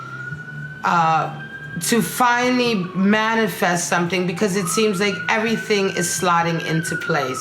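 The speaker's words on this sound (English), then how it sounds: "I'm sorry about that background noise, the siren." A wailing emergency siren rises and falls in the background, sliding up and down steadily beneath someone talking continuously over it.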